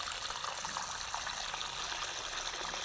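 Fresh water pours steadily over dried fish being washed, a continuous close splashing trickle with no break and no voices.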